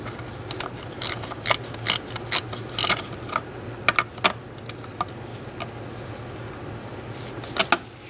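A ratchet with a 10mm socket snugs up a bolt on the serpentine belt cover of a 2014-2018 Subaru Forester, giving irregular bursts of quick clicks and short pauses over a steady low hum.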